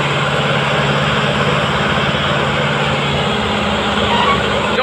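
Sonalika 750 DI tractor engine drones loud and constant while hauling a trolley through a wet, muddy field, a steady low rumble that fills the whole stretch with no speech over it.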